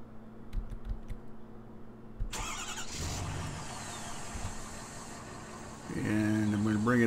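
Truck engine in Farming Simulator 2013 cranks up with a sudden burst, settles into a steady idle hum, then revs louder and rises in pitch near the end, close and fairly loud.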